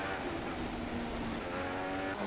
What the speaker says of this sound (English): The Ferrari sounds a little bit weird, but still a cool sound.